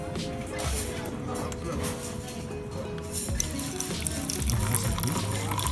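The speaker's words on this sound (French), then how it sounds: "Et ensuite, vous avez de l'eau chaude ici." Hot water runs from a dispenser into a cup for green tea at a kaiten sushi restaurant in Shibuya, a steady pouring and trickling close by amid busy restaurant clatter and chatter.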